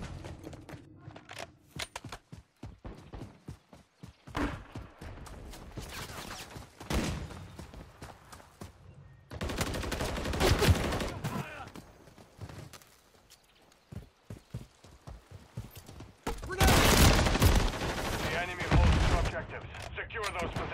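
Gunfire in a Call of Duty Modern Warfare III multiplayer match, with bursts of rapid shots and loud volleys scattered among quieter stretches of footsteps and movement, broken by short pauses.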